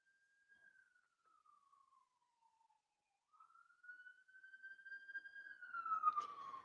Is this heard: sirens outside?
yes